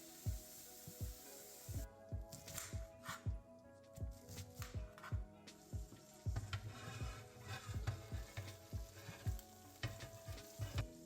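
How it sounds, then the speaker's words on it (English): Cabbage sizzling in a hot pan over medium-high heat, with repeated close scraping stirs in an uneven rhythm over a constant fry. "stir the cabbage"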